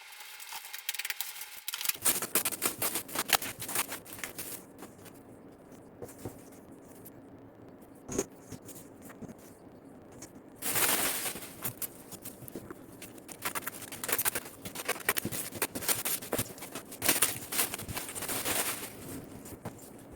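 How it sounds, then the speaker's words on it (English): Papercraft battle map packages from Loke Battle Mats are unwrapped up close, with intermittent crinkling, rustling and tearing of plastic and paper in short bursts and pauses, fairly quiet with no talking. "So let's unwrap and have a look."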